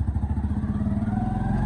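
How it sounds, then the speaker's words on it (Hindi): A scooter engine runs close by in a rural village, a continuous low, rapid putter with steady pulsing throughout. "वैस भाई ने स्कूटर निकाल लिया है, अभी जाते हैं बाहर सिट्टे लेने।"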